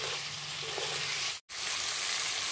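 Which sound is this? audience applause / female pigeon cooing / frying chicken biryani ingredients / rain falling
frying chicken biryani ingredients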